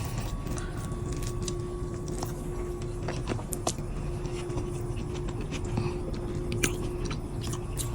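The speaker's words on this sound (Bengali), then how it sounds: "এই যে কচুর দমগুলো নিলাম, গরম ভাত রান্না করছি, এই যে গরম ভাত দিয়ে খাচ্ছি।" Close, steady chewing and small crunchy bites of taro curry (kochur dom) eaten with hot rice, a constant low hum behind the mouth sounds and a few sharper clicks scattered through.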